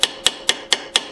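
Ball peen hammer tapping around the edge of a metal head on a Pexto 8014 brace, six light, evenly spaced sharp metallic taps close up.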